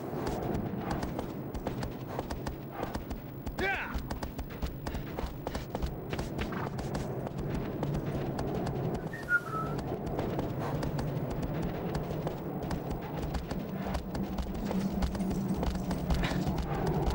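Horse hooves gallop steadily in the video game Shadow of the Colossus, a continuous rhythmic drumming of hoofbeats running through a dense wash of ambient game noise, moderately quiet throughout.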